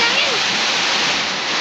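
Strong rushing water pours in a loud, unbroken roar of hiss and spray, steady and close, filling the whole moment without pause.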